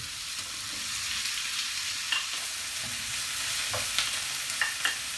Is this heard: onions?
yes